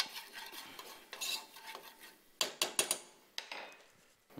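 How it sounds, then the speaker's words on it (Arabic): Garlic frying in a pan while being stirred, with scraping and clinking of a utensil against the pan over a soft sizzle, several sharper knocks clustered near the end. "نقليو شويه الثوم"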